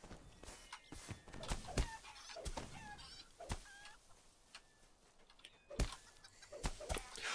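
Chickens in Lord of the Rings Online make scattered clucks and honk-like squawks over a quiet game background, with sharp thumps and clicks punctuating the brief bird calls.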